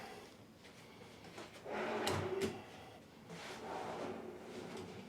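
A storage drawer built into the front of a bed in a Disney Riviera Resort deluxe studio room is pulled or pushed, giving a short wooden sliding rumble with a soft thud, quiet and close in a still room.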